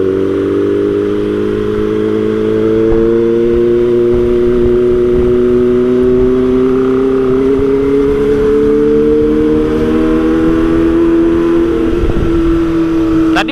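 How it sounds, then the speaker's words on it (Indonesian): A motorcycle with a loud, aftermarket-style exhaust revs and drones steadily close by, its pitch slowly climbing over several seconds with a sharp blip near the end. "Gara-garanya knalpotnya bacot."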